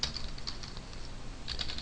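A computer keyboard is typed on to enter a file name, giving quick soft key clicks in two short bursts separated by a brief pause, close and alone over low room hum.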